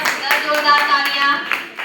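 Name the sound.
audience applause at a college program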